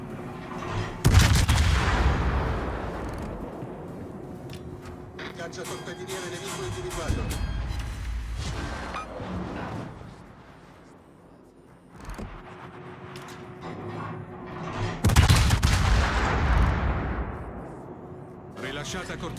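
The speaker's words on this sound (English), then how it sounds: "Look at these volleys, man." Warship gun volleys in World of Warships, played as the Venezia: two heavy booming salvos with long rumbling tails, one early and one late, with talk between them.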